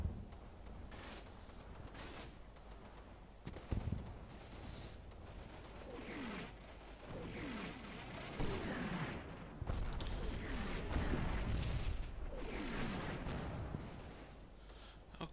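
Artillery fire mission in the WWII game Combat Mission Battle for Normandy: repeated distant booms and rumbling explosions with scattered gunfire crackle, moderately loud, layered over continuous battle ambience.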